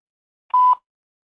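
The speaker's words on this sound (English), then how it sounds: "The phone is ringing." A telephone gives a short electronic tone, a single steady beep of under a second, clear and alone in silence, as an answering machine picks up the call.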